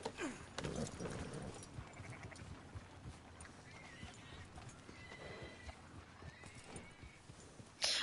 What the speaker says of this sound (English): I love little the Morgan horse.